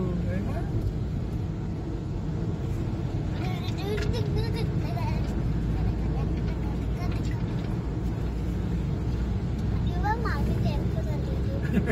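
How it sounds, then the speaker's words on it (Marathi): Vehicles, including a tempo, pass slowly along a road in the Konkan, a steady low engine rumble throughout with traffic noise and people talking over it. "कशी गाडी जातात मग हळूहळू"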